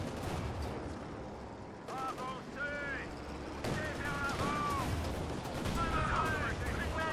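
Gunfire in the video game Company of Heroes 2 crackles in bursts over a dense rumbling battle bed, with sharp volleys and short tonal whistles layered on top and no talk.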